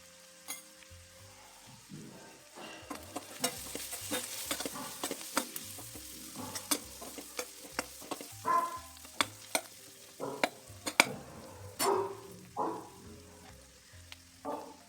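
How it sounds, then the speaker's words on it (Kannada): Brinjals stuffed with masala, with a pinch of turmeric, frying in oil for a spicy eggplant gravy, giving a steady sizzle broken by repeated stirring scrapes and clinks throughout. "ಇದನ್ನು ಎಣ್ಣೆಲೇ ಸ್ವಲ್ಪ ಹೊತ್ತು ಮಗ್ಗಕ್ಕೆ ಬಿಟ್ಬಿಡೋಣ"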